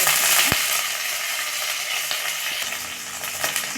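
Green chilies and dal fry in hot oil for Karnataka-style donne biryani, giving a close, continuous crackling sizzle. A few sharp clicks from stirring break through the hiss.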